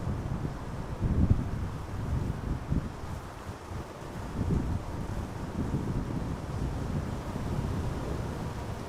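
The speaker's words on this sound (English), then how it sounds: "The wind is still blowing with 17 knots from 270 degrees." Steady wind blowing across an open microphone at Amsterdam Schiphol Airport, about 17 knots from the west, a continuous low rumbling roar with gusty swells throughout and no voices.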